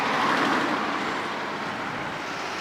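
Goggomobil microcar engine running while driving, a steady, dense rumble with road and wind noise that holds constant and slightly eases off, close and loud with no talk.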